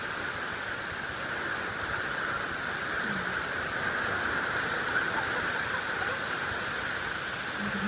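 Steady rain pours down outdoors in a continuous, even hiss while a child runs outside, with no voices heard.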